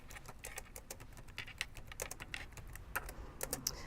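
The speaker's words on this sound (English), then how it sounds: "I will just type something in." Steady, fast typing on a computer keyboard, a close run of light clicky keystrokes with uneven rhythm and no voices.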